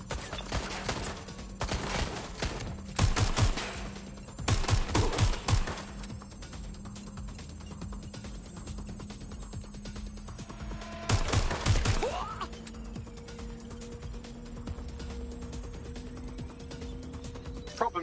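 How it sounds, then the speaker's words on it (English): Gunfire in Watch Dogs Legion, several short automatic bursts crackling at moderate loudness over a steady low game hum, separated by pauses. "Taking fire!"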